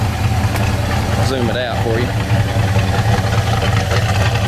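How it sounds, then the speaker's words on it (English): A car engine fitted with a Holley carburetor idles steadily through its exhaust, a loud, close, low rumble that runs throughout while someone talks over it. "Go around here and hear this exhaust."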